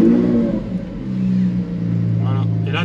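A Lamborghini Aventador SVJ roadster with a full exhaust fires up into a deep, close rumble that swells and holds, the low growl rising slightly in pitch toward the end.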